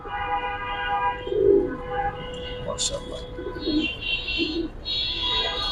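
Male Babu breed pigeons coo in low, rolling bursts scattered through the stretch, close by, with a faint hum of voices and background noise underneath.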